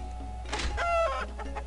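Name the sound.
chicken clucking from a chest in a video game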